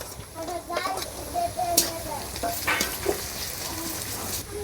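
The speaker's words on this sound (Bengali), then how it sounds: "পেঁয়াজ কাঁচা লঙ্কা হালকা করে ভেজে নিছি" Onion, green chili and garlic frying lightly in oil, a low continuous sizzle with occasional stirring clinks, while someone talks over it and a voice is faintly heard.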